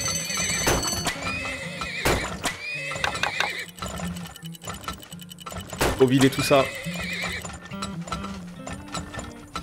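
Horses neighing and hooves clip-clopping in the oil-drilling game Turmoil, with several whinnies and a rhythmic trot under steady talking and light mechanical clicks.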